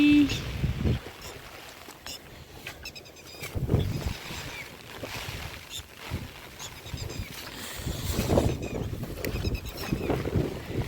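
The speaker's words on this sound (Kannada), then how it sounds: "ನೋಡಿ ಗಾಳಿ ಗಾಳಿ ಗಾಳಿ" Strong wind blows across a flooded paddy field, roaring in gusts close to the microphone with buffeting rumble throughout, while a voice talks intermittently over it.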